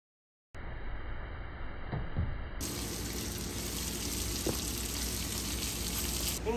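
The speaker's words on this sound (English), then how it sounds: "We got a rolling boil going right here." A pot of water at a rolling boil with snapping turtle, bacon and onions, giving a steady, dense bubbling hiss that runs unbroken and close for several seconds.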